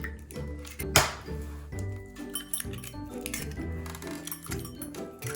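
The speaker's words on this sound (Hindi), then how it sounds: "इसमें सिंपली अपने एग क्रैक करने हैं और इसमें डालना है।" Eggs cracked one after another into a glass bowl for an omelette: a sharp glassy clink near the start, then softer taps and wet plops over a steady tonal background, with no talking.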